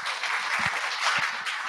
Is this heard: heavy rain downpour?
no